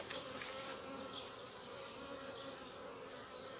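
A continuous, fairly quiet hum of honeybees buzzing around an opened hive late in the afternoon while foragers return, steady throughout with no voices.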